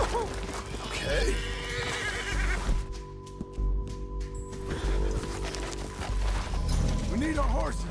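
Horses neigh and whinny repeatedly in Red Dead Redemption 2, loud and close, with hoofbeats and mechanical clicking, under speech and a brief quiet gap.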